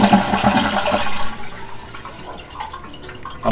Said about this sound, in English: so we can flush this toilet tank back out and we can get rid of the water.